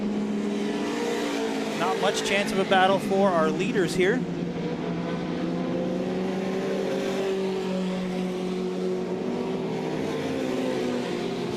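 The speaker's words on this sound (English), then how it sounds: "Cars all around the racetrack." Race cars circle a dirt oval during a heat race, their engines forming a steady, layered drone throughout, with an announcer talking over the start.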